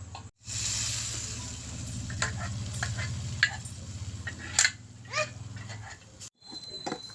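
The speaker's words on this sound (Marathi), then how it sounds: "आता हे डाळ मेथ्या आपण ह्याच्यात घालणार आहोत फोडणीला" Dal methya sizzles in hot oil tempering on a wood-fired stove, a steady frying hiss with stirring clinks and a scrape or two, close and continuous.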